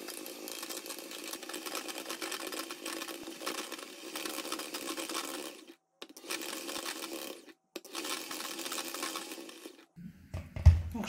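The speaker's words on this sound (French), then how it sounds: "Donc je vais fouetter juste encore un petit peu. Et comme ça, ma chantilly va être prête." Cream being whipped into chantilly for a white chocolate and raspberry New Year's yule log, a steady loud motorized mixer whir that cuts out briefly twice and stops near the end.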